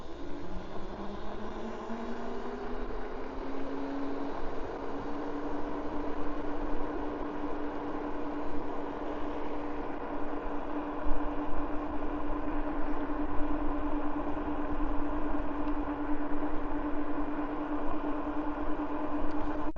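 Coswheel T16 e-bike motor under throttle, a steady electric whine that rises in pitch at the start and then holds level, with constant wind and road noise around it.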